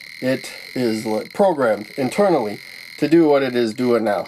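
A 555 timer astable circuit with a light dependent resistor, wired on 5 volts with a protective resistor, gives off a steady high electronic whine that runs throughout under someone talking close by.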